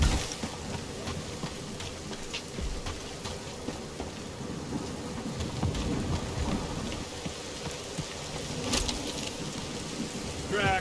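Steady rain falls with rumbling thunder in the game Marvel's Guardians of the Galaxy, a dense, continuous downpour that fills the scene throughout with faint voices underneath.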